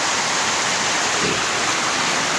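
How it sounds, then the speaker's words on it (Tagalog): A strong current of natural spring water rushes steadily, a dense, loud, continuous roar of flowing water close by, with no talk over it. "Lakas ng Agos mga kababayan, no?"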